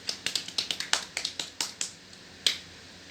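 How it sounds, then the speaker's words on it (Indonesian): An audience at a parenting and child education session gives a scattered round of claps, a dozen or so quick sharp hits that thin out and end with one last clap. "Tepuk tangan kepada Ibu Dewi."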